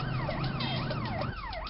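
Wailing ambulance siren in a hospital emergency scene, a rising and falling tone repeating about three times, loud and close with a low rumble underneath.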